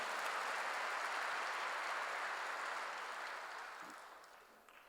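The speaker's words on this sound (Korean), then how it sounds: "박수하세요. 돌이킬 때 기다린다는 겁니다." A church congregation applauds during a sermon: a broad wash of clapping that starts full and gradually fades out over several seconds, fairly distant and soft.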